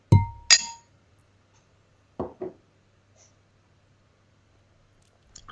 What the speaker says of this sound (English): Shall we cheers and try this sucker? Absolutely. And clink.